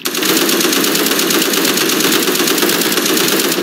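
Minigun in the browser shooter Kuner.IO firing one continuous, loud, rapid stream of rounds that runs without a break, with no voices over it.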